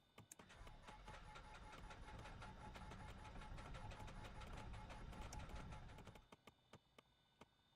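Left engine of a Cessna 310R cranking on a start attempt, a steady rapid mechanical chugging that runs for about six seconds without catching, then stops, leaving a few sharp ticks.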